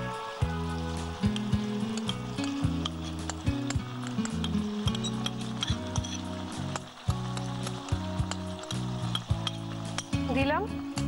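A paste of sour yogurt and fried onion goes into a hot pan for a chicken korma, crackling and sizzling steadily while a spoon scrapes and clinks against the pan in irregular strokes, close up.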